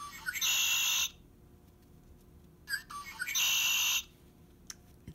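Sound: red-winged blackbird call

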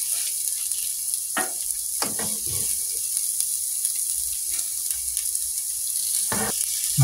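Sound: rice sizzling while frying in a pan

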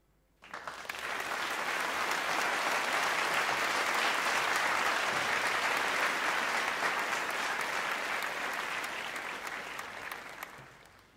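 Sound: audience applause at a concert

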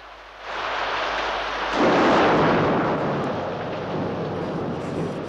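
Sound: thunder during a rainstorm

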